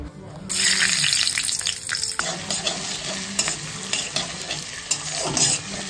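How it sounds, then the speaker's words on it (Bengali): Onions and potatoes fry together in a pan for lunch, giving a steady broad sizzle with stirring scrapes and occasional clatter, fairly close and continuous with no talk. "একটু পেঁয়াজ ভেজে আলুটা তার সাথে ভেজে নিই"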